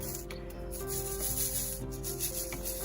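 Small plastic diamond painting drills shaken around in a tray make a soft, continuous gritty shuffle and rattle, with a steady tonal hum running underneath.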